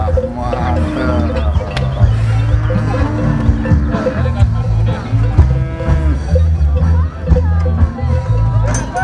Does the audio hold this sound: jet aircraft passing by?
no